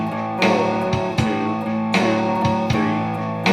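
An electric or acoustic guitar plays a swung blues rhythm, strummed chords landing in a loping shuffle pattern with accented hits, close and alone.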